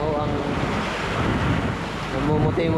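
Rough sea surf and gusting wind during a storm at sea, a continuous loud roar of waves and wind buffeting the microphone, heard close and without talk.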